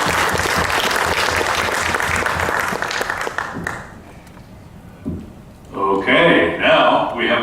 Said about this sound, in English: A huge round of applause for these amazing women and what they do